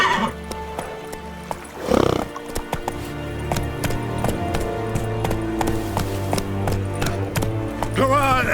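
Horse hoofbeats from The Witcher 3 in the next-gen update, a steady run of clip-clop thuds with a brief whinny or snort near the start, layered over game music and ambience at moderate loudness.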